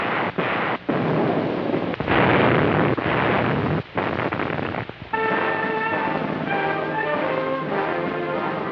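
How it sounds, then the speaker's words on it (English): Devastating 1944 artillery barrage by Canadian and British forces near Caen, heavy rumbling blasts and booming concussions rolling continuously, breaking off into sustained orchestral newsreel music. "Canadians and British launched the devastating barrage that led off to the capture of"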